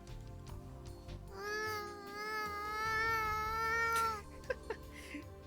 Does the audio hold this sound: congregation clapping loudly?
no